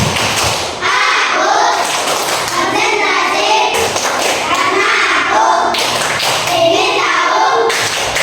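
Schoolchildren in a classroom perform a concentration clapping routine, rhythmic bursts of claps and thumps repeating in regular cycles, with young voices chanting along close by.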